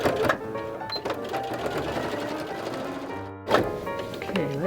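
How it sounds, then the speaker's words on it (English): A sewing machine runs in fast rhythmic bursts of stitching with Gutermann fusible thread, with a brief pause near the end before it starts again; a faint voice in the background. "now we're ready to take it to the sewing machine"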